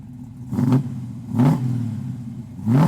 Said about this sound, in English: we're out cruising in the 69 Camaro